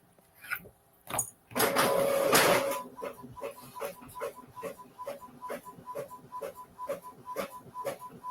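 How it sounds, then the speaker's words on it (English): An inkjet-style printer runs through a page after a few opening clicks and a brief whir, settling into a steady rapid ticking and shuttling rhythm that stays close and moderately loud, with no talking. "I just want to finish printing this out"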